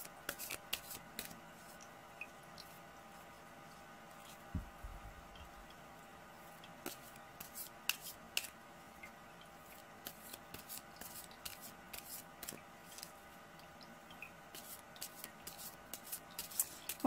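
Oracle cards being shuffled, handled and drawn during a card reading, giving soft papery flicks and slides with scattered sharp ticks and taps, close and quiet, with no talking.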